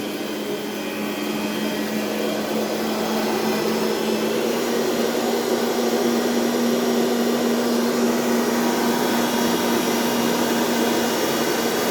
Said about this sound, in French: On va accélérer le batteur.